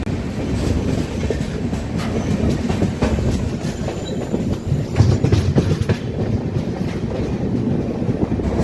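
Steady rumble inside the general coach of the Swarnajayanthi superfast train as it runs slowly, with a continuous clickety-clack of wheels over rail joints and occasional metallic clanks, close and even throughout, with no voices.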